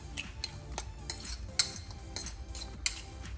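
Beaten egg mixed with thankuni (pennywort) leaves in a bowl: steady clinking of a utensil against the bowl in a quick, even stirring rhythm, with two sharper knocks, close and clear.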